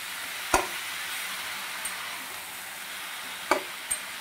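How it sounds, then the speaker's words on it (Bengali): Chopped spinach sizzles softly in a pan under a faint steady hiss, and a few sharp knocks of a spoon against the pan mark the mixing. "এরপর পালং শাকটা ভালোভাবে মিশিয়ে দেব।"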